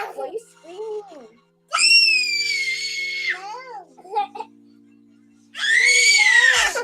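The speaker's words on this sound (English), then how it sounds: "Ooh, she's screaming. Oh, why are you screaming?" A young child screams in loud, high, wavering bursts, two long shrieks separated by quieter vocal sounds, close to the recorder, with an adult speaking softly in between.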